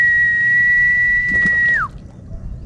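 A single long, steady high-pitched whistle to call milkfish while line fishing, held for nearly two seconds, ending with a quick downward slide, then quiet outdoor background.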